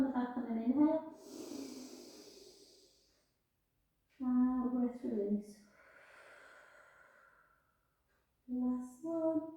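Slow, audible exhale during a Pilates stretch, breath released in soft airy gusts between stretches of quiet, with a calm voice guiding around it.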